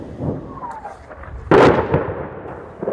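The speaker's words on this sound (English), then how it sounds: "afternoons with the noise of rockets landing in the streets" A rocket lands in a town street during a firefight near a key bridge by Kherson, Ukraine: a single loud, sharp blast midway through, preceded by a faint whistling streak and followed by a rumbling tail.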